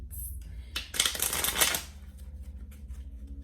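Cards being shuffled nearby, a single dense riffling burst of about a second after a brief rustle, followed by quieter handling.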